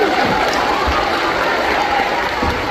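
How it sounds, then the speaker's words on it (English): A crowd applauds steadily and loudly, a dense, even wash of many hands clapping that holds for the full few seconds with no pause. "our new friends might even give you a round of applause"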